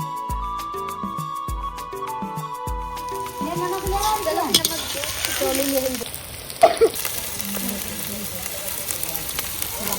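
Vegetables sizzle and fry in a pan for homemade chowmein, a steady hiss that takes over after a few seconds of rhythmic chopping or tapping, with scattered clatter from the kitchen and a sharp clink near the end.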